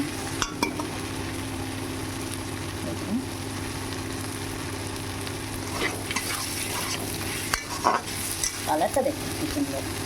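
Something fries and is stirred in a pan while an ash gourd dish is cooked, with a steady close sizzle and a few utensil scrapes and clinks toward the end.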